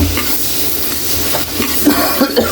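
Butter shrimp frying in a pan with white onion, stirred as it cooks: a steady close sizzle with scraping stir strokes and a few sharper clinks near the end, no voices.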